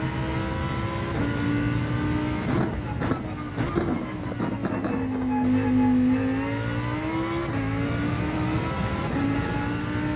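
A Lamborghini Huracan race car engine in Gran Turismo 7 at Catalunya drones steadily at high revs, pitch rising and dipping through gear shifts, loud and continuous with no voices.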